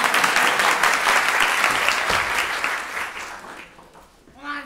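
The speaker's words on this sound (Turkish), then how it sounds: "Alkış." A school audience claps loudly at a stage play, the dense applause gradually fading over several seconds before a voice starts speaking near the end.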